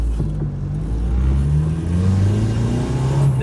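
A 2000 Honda City's engine revs steadily at close range, a continuous loud mid-pitched drone whose rising tones climb and fall slightly over a few seconds, with no talking.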